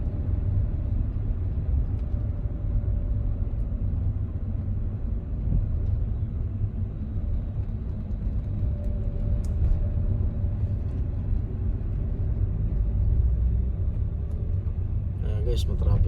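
Steady low engine and road rumble from inside a car creeping through heavy traffic in Japan, continuous and even throughout, with faint occasional clicks.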